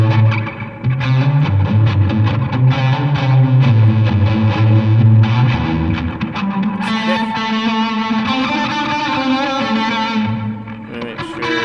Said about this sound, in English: Let's add some univibe.